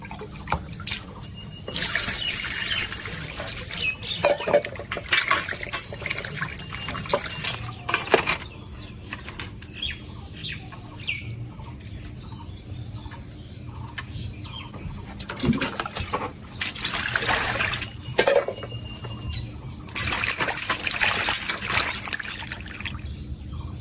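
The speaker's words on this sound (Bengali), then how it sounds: "এবার আমি মাছগুলোকে ভালোভাবে ধুয়ে দিব" Water trickles and splashes as cut fish are washed by hand in a kitchen, with intermittent louder pours and sloshing bursts over a steady running stream, close by and continuous throughout.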